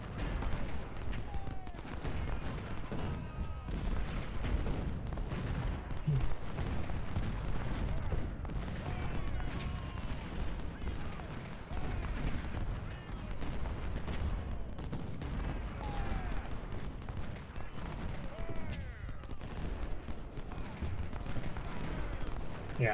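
Artillery and musket volleys roll on through a Civil War strategy battle at Fredericksburg in Ultimate General: Civil War, a steady dense din of distant gunfire and blasts with no pauses.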